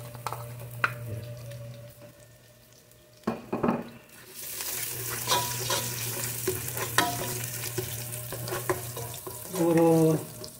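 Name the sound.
ginger and garlic sautéing in a pan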